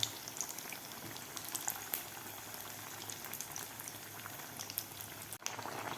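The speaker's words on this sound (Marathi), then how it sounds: "तर व्यवस्थित गोल्डन कलर होईपर्यंत आपल्याला हे वडे तळून घ्यायचे आहेत." Batata vadas deep-frying in hot oil until golden, a steady dense bubbling and crackle that carries on evenly throughout, fairly quiet and with no voices.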